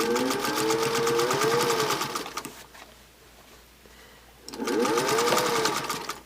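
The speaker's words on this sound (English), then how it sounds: "I'm going to back tack" A sewing machine stitching binding onto a placemat and back tacking: a loud, close, rapid mechanical whir that runs, pauses briefly, then starts up again.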